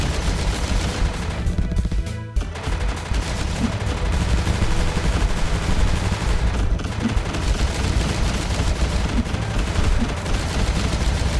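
A ship fires nonstop in the shoot-'em-up MF-01 Aerostrike, a steady, loud barrage of rapid-fire shots with no break across the whole stretch.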